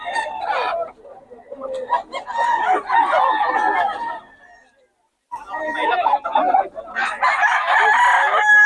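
Chickens cluck and a rooster crows amid busy human chatter, with a short pause midway before more crowing and voices.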